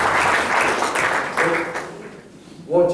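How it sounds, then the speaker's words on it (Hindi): A talk-show audience applauds a speaker, the clapping loud at first, then thinning and fading, before a voice starts speaking near the end. "तो इसके लिए हम लोग तालियां बजाएं"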